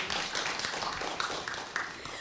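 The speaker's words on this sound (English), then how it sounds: "Another big round of applause." An audience at a 2017 journalism conference panel applauds, a steady wash of many hands clapping at moderate loudness, continuing evenly for a couple of seconds.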